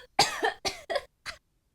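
A person coughs close to the microphone in a quick burst of four harsh, raspy coughs with short gaps, then falls silent.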